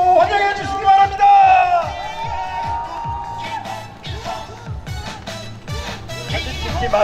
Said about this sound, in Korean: 여러분 박수로 환호로 환영해 주시기 바랍니다.